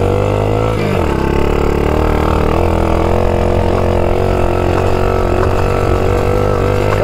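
A 200-horsepower Can-Am engine with a failing throttle droning at a steady, loud, near pitch with a brief dip, unable to rev higher.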